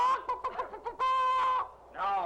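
A person imitates a clucking chicken in a playful spooky skit, a quick run of voiced clucks followed by a long drawn squawk and another short cluck, loud and close with no other sound.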